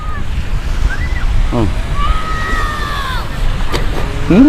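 Surf washes steadily on a beach, a broad continuous wash with wind noise over the microphone, while faint squeaky chirping tones rise and fall intermittently above it.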